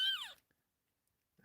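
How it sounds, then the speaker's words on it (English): A kitten gives one short, hoarse, raspy meow up close, then goes quiet before a faint rustle. "he's got a little bit of a more hoarse meow, too"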